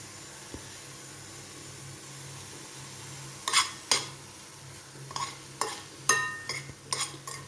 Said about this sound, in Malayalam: ഇച്ചിരി കറിവേപ്പിലയും ചേർത്ത് ഇളക്കി വാങ്ങാം